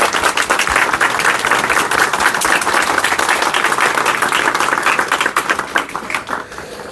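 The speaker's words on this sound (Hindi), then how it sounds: "तो एक बार जोर से ताली बजाकर" An audience at a recovery anniversary gathering breaks into loud, dense applause that holds steady for several seconds before gradually thinning out.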